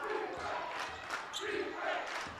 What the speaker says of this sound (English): This crowd is the loudest it's been tonight.